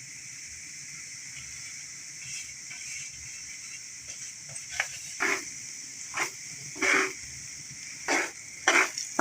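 Semolina roasting with cardamom in a pan for halwa: a faint steady hiss, then a series of short, sharp stirring scrapes that grow more frequent and louder toward the end.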